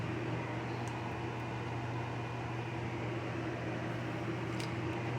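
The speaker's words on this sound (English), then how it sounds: "Now we're gonna blend it" A blender whirs through birria sauce with ginger root and green onions for pork spare rib birria soup, a steady, even motor drone running unbroken from start to finish with no voices.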